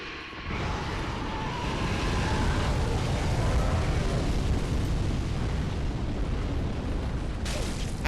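A fire attack in Dark Souls 3 roars as a steady, dense rushing blaze, loud and continuous for several seconds before cutting off abruptly, with no talking.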